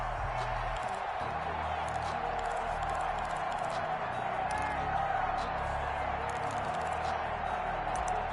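Football crowd at Soldier Field in the fourth quarter before a big third down, with a broad, steady roar of the stadium audience throughout, heard beneath a commentator talking.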